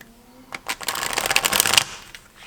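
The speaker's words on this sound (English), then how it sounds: "when I shuffle this, I feel that the riffle is a bit more smooth than in the German version" A Thoth tarot deck is riffle shuffled close up: a short, smooth burst of rapid card flutter lasting about a second, then a soft settling tap, with quiet surroundings.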